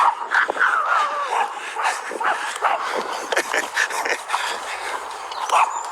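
Several dogs yap and bark continuously in a busy, overlapping chorus, with a high whine running through the first part.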